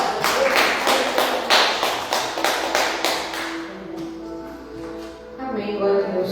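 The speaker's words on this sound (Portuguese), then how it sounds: "E as palmas que louvam, Senhor Jesus." Church congregation clapping in praise during a worship service, a run of loud rhythmic claps that fades out midway, leaving quieter murmurs and faint musical tones.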